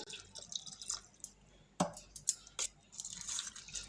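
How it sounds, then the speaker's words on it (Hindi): Half a cup of water is poured into a thick paste of leftover cooked rice, heard as faint, close splashes and drips in short bursts against a quiet kitchen background. "तो मैं इसमें हाफ कप पानी डाल रही हूँ"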